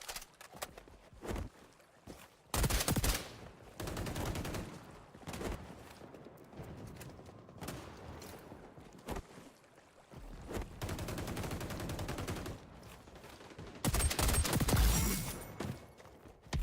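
Shotgun fire in the shooter game XDefiant: several bursts of loud, booming shots in uneven clusters, separated by quieter stretches of footsteps and game ambience.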